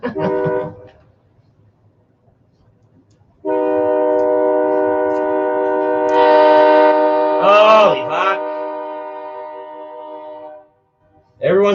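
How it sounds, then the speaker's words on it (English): A loud, sustained train horn blares for about seven seconds, rising in intensity midway, with brief speech before and after. "you don't have to fucking ring your fucking train bell that fucking loud"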